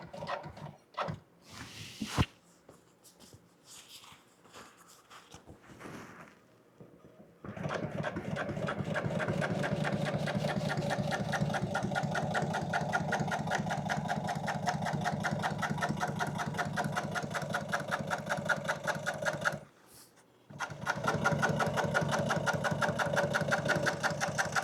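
A sewing machine top-stitches motorcycle seat upholstery, beginning with a few short bursts and then settling into a long, steady, close-up run of rapid stitching with one brief pause near the end.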